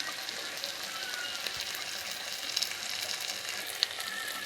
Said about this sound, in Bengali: ভালোভাবে কষিয়ে নিতে হবে